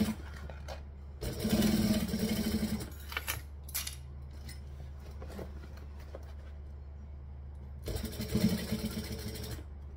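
Sewing machine backstitching a seam in two short bursts of rapid mechanical whirring, separated by quiet handling noises and faint clicks, close and moderately loud.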